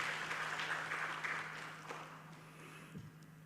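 Faint, distant applause from an audience at a foundation's grand launching event in Indonesia, a steady wash of clapping over a low hum that slowly thins out.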